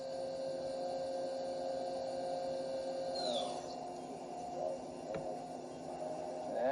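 A 2008 Mori Seiki four-axis horizontal machining center's spindle turns at 8,000 RPM, giving a steady tonal hum and whine that holds level, with a brief rising whir near the middle and a soft click later on.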